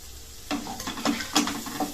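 Finely chopped tomatoes drop into reddish-browned fried onions in a hot pan. A sudden sizzle erupts, then quick scraping stir strokes repeat several times, close and clear, with no voices.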